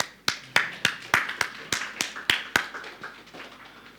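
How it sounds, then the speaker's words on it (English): A small lecture-class audience gives a slow round of applause, about a dozen distinct claps in a steady rhythm, close and sparse, fading out near the end with a faint low hum beneath. "Okay, round of applause."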